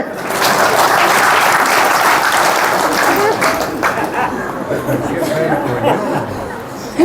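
Loud, dense applause from a large audience, sustained for several seconds with chatter mixed in, then tapering slightly toward the end.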